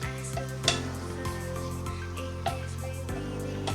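Chili powder sautéing with a momo filling in a pan, a steady sizzle with a few sharp utensil knocks and scrapes against the pan, close and moderately loud, with a low hum underneath.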